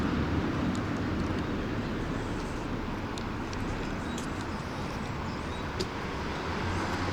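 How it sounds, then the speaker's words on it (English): Steady, loud roar of traffic on a Japanese street at 1 a.m., with American-made cars' engines and tires rumbling continuously, a constant wash of street noise with no pauses. "American-made vehicles in a Japanese street. That was so loud."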